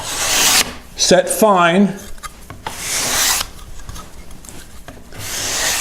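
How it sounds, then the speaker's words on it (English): A steel card scraper rasps across a wooden board in a few short, firm strokes, close and fairly loud, following up after a cabinet scraper; someone speaks briefly between strokes. "What I would do after I use my cabinet scraper is I come in and follow up with my card scraper"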